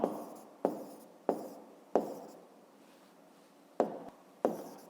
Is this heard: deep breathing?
no